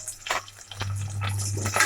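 Whole spices sizzling and crackling in hot oil in a pan, a faint, close frying hiss with small irregular pops over a low steady hum.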